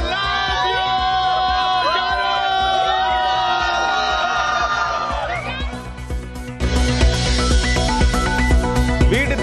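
Fans cheer at midnight outside Shah Rukh Khan's house in Mumbai, a loud crowd roar and whoops mixed with music, swelling louder in the final seconds.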